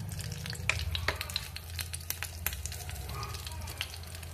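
Cumin seeds sizzle and crackle steadily in hot oil in a tadka pan on a gas stove, with scattered sharp pops over a low hum.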